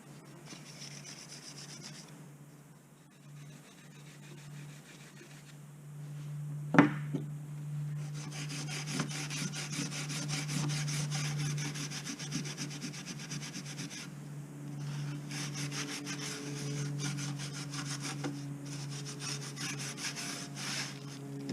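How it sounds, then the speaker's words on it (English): A Scotch-Brite pad scuffs aluminium elevator parts for an RV-14A aircraft: the front spar, rear spar and inboard rib. The scrubbing is close and continuous, a steady rasping rub over a low background hum, with one sharp knock partway through and no voices. "I'm just going to use my Scotch-Brite to scuff those three parts from the right elevator"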